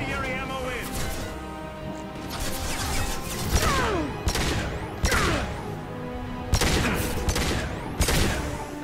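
Bursts of gunfire with incendiary ammo from the Mass Effect 2 video game, loud sharp shots and crashing impacts repeating irregularly over a busy game soundtrack, with a voice talking at times.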